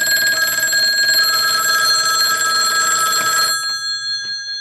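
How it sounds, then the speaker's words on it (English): A telephone bell rings steadily as its clapper strikes rapidly, driven by a BK Precision 1050 test set; a bright metallic ring holds for several seconds, then cuts off and decays. "I'll slowly bring this up until the clapper starts striking the bell"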